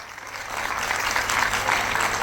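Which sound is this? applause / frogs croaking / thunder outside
applause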